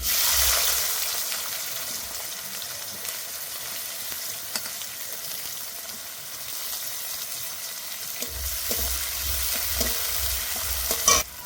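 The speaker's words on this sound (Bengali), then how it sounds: "গোটা শুকনো লঙ্কা, তেজপাতা, গোটা জিরে, জিরে আর লঙ্কাটা ভালো করে ভেজে নিয়েছি, এবার পেঁয়াজ কুচি দিয়ে দেবো।" Chopped onion hits hot oil with whole dried red chillies, bay leaf and cumin for a pangas fish curry. The sizzle is loud, close and continuous, broken by scraping stirs in the pan.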